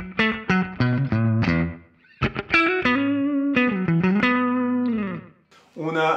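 Electric guitar played through a Fractal FM3 with compressed reverb, giving sustained distorted notes and chords with long, smooth tails, loud and close, in a few phrases separated by short gaps.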